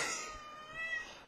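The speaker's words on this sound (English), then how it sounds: "I've actually got a cat named Smokey." A pet cat named Smokey gives a single faint, drawn-out meow, heard alone at close range.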